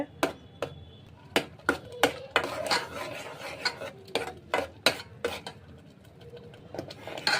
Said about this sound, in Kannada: ಈ ಮಸಾಲೆನ ಚೆನ್ನಾಗಿ ಫ್ರೈ ಮಾಡ್ಕೊಳ್ಳೋಣ ಚೆನ್ನಾಗಿ ಫ್ರೈ ಮಾಡಿಕೊಂಡ್ರೆ ಚೆನ್ನಾಗಿ ರುಚಿ ಬರ್ತದೆ